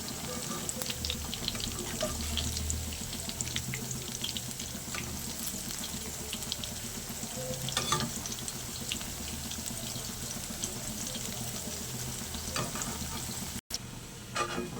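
Vegetable fritters (bora) made with winter vegetables fry in hot oil, giving a soft, steady sizzle and crackle with a few faint clinks and stirring sounds, and no talk.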